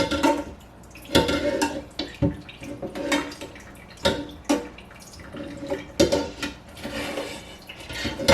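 Wet squishing and dripping come in irregular bursts as soggy cooked spinach is pressed and squeezed in a metal strainer, with water trickling and metal clinking between pushes.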